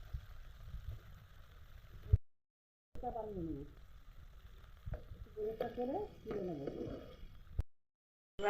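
Ginger and garlic frying in mustard oil, a quiet steady sizzle broken by brief pauses, with someone talking over it.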